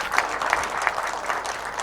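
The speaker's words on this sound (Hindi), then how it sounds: "उसके लिए तालियां बजाएं आप सब" An audience applauds at a launch event in Karachi, continuous many-handed clapping that swells in slight pulses, steady and fairly close, without speech over it.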